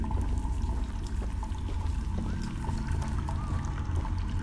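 Water pouring in Choo Choo Charles, a steady continuous splashing stream heard close over a low ambient game drone, with faint whistling tones drifting in midway.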